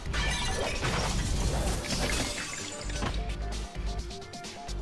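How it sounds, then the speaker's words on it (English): Loud shattering, crunching smashes of bones in a battle scene from the visual novel Fate/Stay Night, a dense burst of breaking impacts at the start that thins into scattered cracks and clatters. "Saber smashes away the bones to protect my back"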